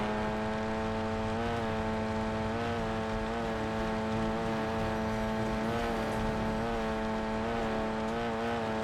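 A vehicle driven through the Verdansk map in Call of Duty Warzone (Black Ops 6), its engine holding a steady, droning hum with slight pitch rises and falls throughout, loud and continuous with no talk.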